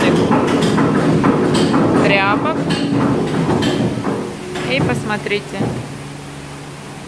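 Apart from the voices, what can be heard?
paper mill hammers pounding old textile rags into pulp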